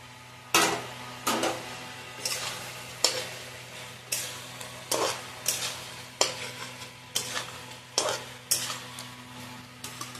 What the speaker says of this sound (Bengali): এবার এর মধ্যে আমি ভেজে রাখা চিকেনগুলো দিয়ে দেব।